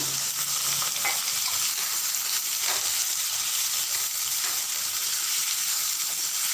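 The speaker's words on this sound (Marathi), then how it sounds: "नंतर त्यामध्ये असा बारीक चिरलेला कांदा घालायचा" Finely chopped onion frying in a pan after cumin seeds, a loud, close, continuous sizzle with occasional stirring scrapes.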